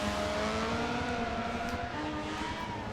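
Race car engines, including a Honda CRX and a BMW, drone loudly and continuously in the Forza Motorsport 7 racing game as several cars run together, with a steady pitch that climbs a little.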